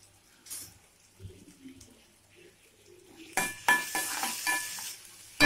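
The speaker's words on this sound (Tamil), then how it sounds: "இப்போ பார்த்தீங்கன்னா நம்மளோட வெங்காயம் வந்து நல்லா ஃப்ரை ஆகட்டும்" Onions frying in a pan, soft sizzling with a spoon stirring and scraping against the metal, quiet at first, then louder clattering stirs and hissing toward the end.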